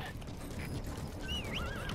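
A horse in the video game Metal Gear Solid V whinnies in a short rising and falling call over a busy, rumbling game soundscape, with some faint clattering near the start.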